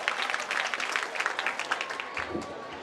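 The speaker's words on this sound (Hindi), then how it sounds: "जोरदार तालियों से स्वागत।" Audience applause at a school merit felicitation ceremony, welcoming a senior teacher as guest: a sustained burst of many hands clapping, moderately distant, tapering near the end.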